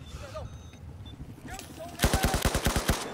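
Automatic gunfire from a gun in the video game Battlefield 4, a loud rapid burst of about ten shots in the last second, after quieter game ambience with faint voices.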